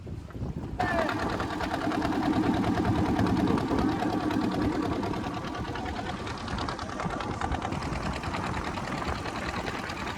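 A passenger launch's engine runs steadily at Patibunia ferry ghat on the way to Mousuni Island, a continuous droning chug that holds from start to finish, with voices talking faintly beneath it.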